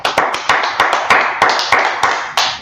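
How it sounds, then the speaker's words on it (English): A group claps together at a Tuesday brotherhood class gathering, a steady run of loud, close, sharp claps in an even rhythm with no talk over them. "Let's clap it up for the Lord."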